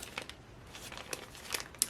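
Plastic bag holding large 18 mm plastic beads crinkles in a few quiet, brief bursts, with soft rustling between them and a sharper crackle near the end.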